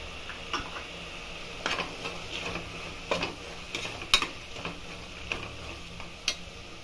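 Tomato and peas frying in a pan for vegetable pulao, a faint steady sizzle broken by soft, evenly spaced stirring scrapes and taps, close and quiet, with no speech.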